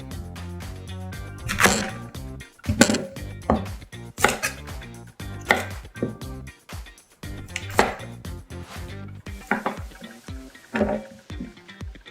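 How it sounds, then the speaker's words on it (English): A knife chops peeled turnip on a cutting board for vegetable soup, giving a steady series of sharp, close blade strikes in irregular bursts with no talking. "Turnip peeled and chopped."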